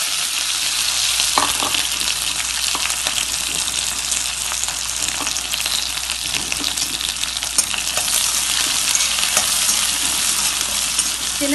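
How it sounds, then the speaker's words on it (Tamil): Small onions and curry leaves sauté in hot oil in a pan for a Tamil beans kootu, giving a steady, loud, dense sizzle that runs throughout with occasional light stirring clicks and no voices. "சின்ன வெங்காயமும் கருவேப்பிலையும் ஜாஸ்தி போட்டு நம்ம வதக்கணும்னு அவசியம் இல்லை, லேசா கொஞ்சம் வதக்கினா போதும்."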